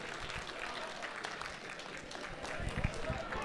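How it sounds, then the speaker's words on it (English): Audience applause for the top 8 players of Guilty Gear Strive at the Get On My Level 2023 fighting game tournament, a steady wash of clapping that swells slightly toward the end, with crowd noise mixed in. "one more round of applause for your top 8 of Guilty Gear Strive over here at Get On My Level"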